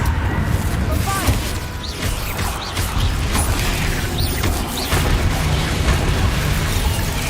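Explosive spell blasts such as Confringo and Bombarda in Hogwarts Legacy go off repeatedly as bursts and booms over a dense, continuous bed of game effects and music.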